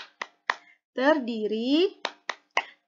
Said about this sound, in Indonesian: itu adalah tepuk identitas surat Al-Fatihah